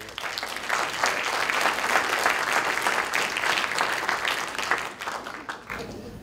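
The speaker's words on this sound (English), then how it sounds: "I just wanted to give them a round of applause" An audience at a SETI Institute talk event bursts into sustained applause, many hands clapping loudly and evenly for several seconds before it cuts off near the end.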